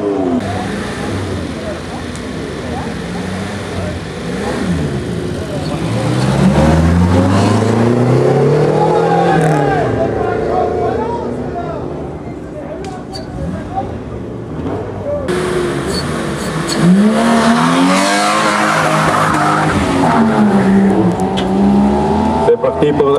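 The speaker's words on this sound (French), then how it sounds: "Suivi par la Renault 5 GT numéro 31." A Renault 5 GT race car climbs a historic hill climb course, its engine revving up and down through gear changes as it accelerates away and passes, loud and near, with a commentator talking over it.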